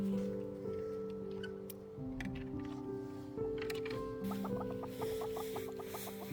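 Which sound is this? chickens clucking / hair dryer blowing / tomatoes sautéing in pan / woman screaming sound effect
chickens clucking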